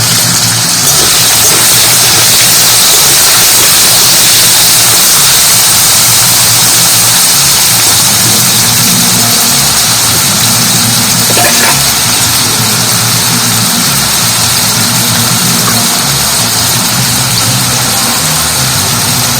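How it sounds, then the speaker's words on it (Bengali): Diced potatoes fry in hot oil with a loud, steady, dense sizzle that holds constant throughout, close and without any talking. "আর এই তেলের মধ্যে আলুটা ভেজে নেবো।"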